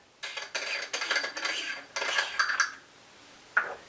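A T-threaded astronomy extension tube's thumb ring is unscrewed, giving short scraping metallic rasps in quick bursts, close and fairly quiet, then a final brief scrape after a pause.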